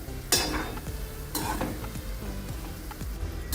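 Khava-style bore sweets frying in oil over a low gas flame, giving a steady soft sizzle up close, broken by a few clinks and scraping stirs, with no talking.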